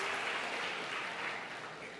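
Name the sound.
audience applause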